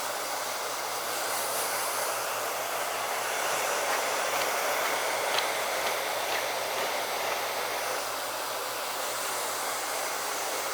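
A hair dryer blows steadily and loudly on a hair topper turned upside down and pinned with T-pins, a continuous broadband rush with no talk.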